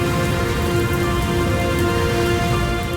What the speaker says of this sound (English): Heavy rain in Hunan province causes dozens of dams to collapse.